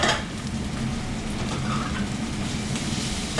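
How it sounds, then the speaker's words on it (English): Tomato paste and thyme roast in a hot pan with a steady, close frying sizzle and crackle, continuous and even from start to finish. "Now the tomato, we're going to roast off in the pan as well"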